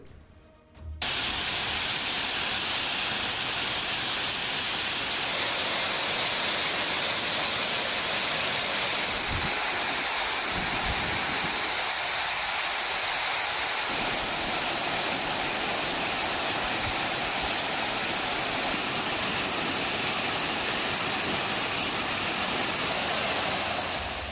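The Chinnasuruli waterfall pours steadily as a dense, unbroken rush of falling water. The roar stays loud and even throughout, with no voices.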